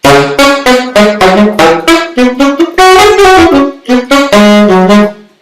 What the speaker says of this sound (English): slap tonguing, which is a much more percussive way to play.